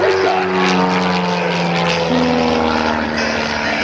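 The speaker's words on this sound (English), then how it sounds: "As he rolls that airplane up, hangs on the prop with a torque roll" Ultimate biplane propeller aircraft at an airshow over Greenwood Lake, its loud, steady engine and prop drone swelling and shifting in pitch during a torque roll and aerobatic maneuvers, with no talk over it.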